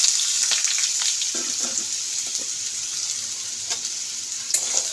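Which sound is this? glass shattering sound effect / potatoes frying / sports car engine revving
potatoes frying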